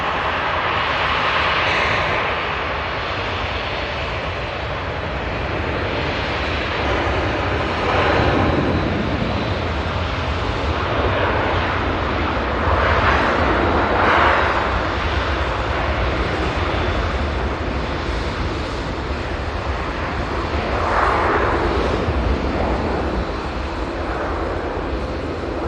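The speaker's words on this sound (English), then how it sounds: "Great to see Saudi here at Manchester Airport, of course, operating the Dreamliner, coming in from Jeddah." A Saudia Boeing 787 Dreamliner arriving at Manchester Airport from Jeddah: a steady, broad jet engine roar that swells and fades over about twenty-five seconds, with wind buffeting the microphone.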